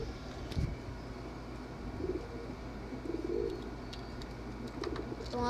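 Pigeons near their nest give soft, low cooing in a few short bursts, heard close against a steady background hum, with no talk over them.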